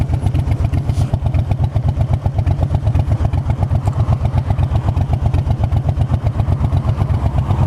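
A Harley Davidson Fat Bob motorcycle engine idles close by, a steady, loud, low rhythmic potato-like thump that stays even throughout.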